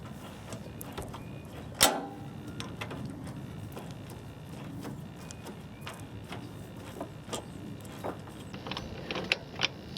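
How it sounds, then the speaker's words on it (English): A T40 Torx driver removes bolts on a Jeep Wrangler. Faint scattered clicks and small metallic ticks continue throughout, with one sharper knock early on, in a quiet space. "So I'm going to use the T40 to remove the bolts."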